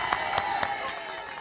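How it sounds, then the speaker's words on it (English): Crowd welcoming a walker finishing a Hadrian's Wall walking challenge, with scattered clapping and cheering outdoors, fairly faint and muffled beneath a steady background. "Everybody, give them a cheer again, everybody."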